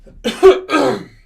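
Two rough, close coughs in quick succession, like someone trying to clear their throat.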